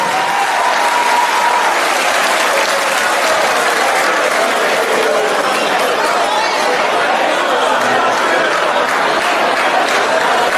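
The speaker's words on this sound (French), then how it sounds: "Qu'on les acclame, s'il vous plaît." Loud, steady applause from a theatre audience at the MEMIKE 2016 pageant, continuing without a break, with faint chatter mixed into the clapping.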